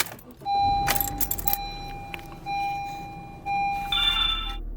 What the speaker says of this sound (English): First you're going to need to turn on the car.